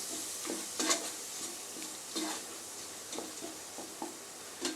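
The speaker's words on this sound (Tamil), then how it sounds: "இப்போ தக்காளி நல்லா வதங்கிட்டு இருக்கோங்க" Tomatoes fry in oil in a pot for a Tamil chicken curry, giving a steady close sizzle broken by a few sharp scrapes and clinks of a spoon stirring, with no talking.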